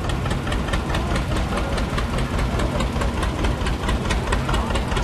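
An old 1950 Farmall tractor putt-putts with an even, rapid train of loud knocking beats over a low engine throb, sounding close and alone with no talk.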